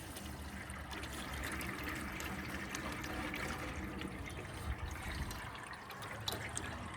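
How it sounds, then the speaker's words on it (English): Water pours into the radiator of a 1982 Toyota BJ60 diesel Land Cruiser, a continuous splashing, trickling flow at close range with no talk over it. "we're gonna put some water in it just to load it"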